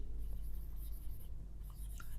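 Pen scratching faint, soft strokes on paper while a definition is written out in a science lesson, quiet and close over a low steady hum.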